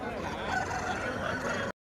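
Chickens and roosters at a crowded hen market in Piler cluck and crow densely and continuously, with market chatter mixed into the steady din.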